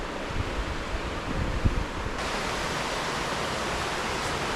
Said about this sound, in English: The sound of the waterfalls is just crazy.